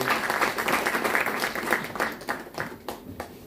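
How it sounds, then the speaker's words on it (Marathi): A seated audience applauds a woman receiving the Samvidhan Ratna award, a dense, moderately loud wash of many hands clapping that thins out toward the end. "आपण एकदा त्यांच्याकरता जोरदार टाळ्या वाजवल्या."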